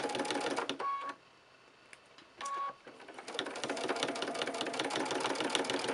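A sewing machine stitches slowly in the ditch through the quilted layers and interfacing of a fully lined tote bag. It runs steadily and close by, with two brief pauses before the stitching resumes.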